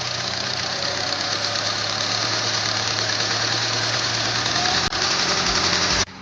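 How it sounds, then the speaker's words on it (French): A small two-stroke engine idles with its idle speed set too high, giving a steady, buzzing drone with a rough knocking texture. It runs close and loud and unchanging, then briefly dips near the end. "Donc là vous voyez bien que le ralenti il est trop haut"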